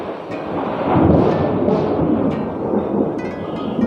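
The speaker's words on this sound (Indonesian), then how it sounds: "Buset, geluduk cuy, hujan." Thunder rumbles through heavy rain at a house, a loud, close, continuous roar of downpour with a deep swelling rumble, and no talk.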